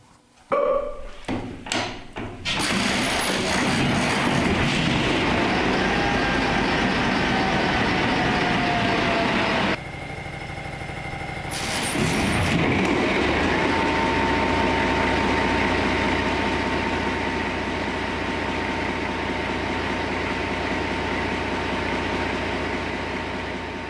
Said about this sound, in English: Go right ahead, fire up the generator